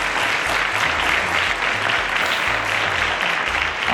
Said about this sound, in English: A round of applause to Oluwatunmise.